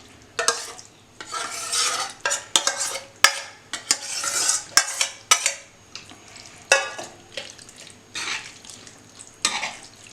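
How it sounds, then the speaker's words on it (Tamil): A spoon scrapes and clinks against a pot while curd is mixed into cooled bottle gourd curry, sounding as irregular close taps and scraping strokes between short quiet gaps. "இதை நல்லா மிக்ஸ் பண்ணிக்கணும்."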